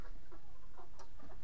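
Backyard hens clucking close by, several short soft clucks and murmurs spread across a brief moment over a constant background hiss.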